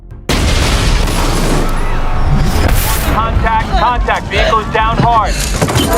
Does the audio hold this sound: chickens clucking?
no